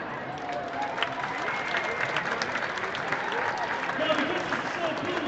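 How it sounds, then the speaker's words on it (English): A crowd at a charity rat race in a Toronto downtown plaza claps and cheers in a steady outdoor wash, with voices mixed in. "Again, big round of applause,"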